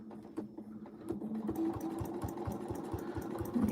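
Sewing machine stitching free-motion quilting, running in a steady rapid needle rhythm with a mechanical hum, close and continuous, no voices.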